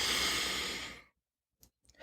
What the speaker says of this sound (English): Now take a nice big inhale